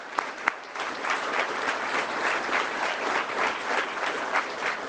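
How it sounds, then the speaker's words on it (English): Dense, steady applause from a large audience fills a political press event with police association members present, with a couple of sharp individual claps standing out near the start and no talk over it. "Give them all a round of applause."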